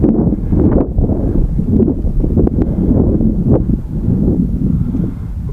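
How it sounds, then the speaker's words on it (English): Crosswind of almost 10 mph at an airfield buffets the microphone, a loud, continuous low rumble with uneven gusting swells and no voices over it. "The actual wind comes down because it's almost 10 miles an hour crosswind."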